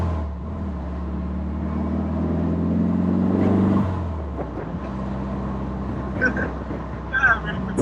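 A Porsche 356 Speedster's engine while driving, a steady droning hum that rises as the car accelerates, then drops back after a shift, with people talking over it.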